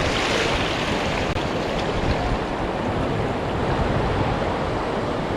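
Ocean waves break continuously along Daytona Beach, Florida, a steady broadband wash of surf roaring close and loud with wind buffeting the microphone throughout, no voices.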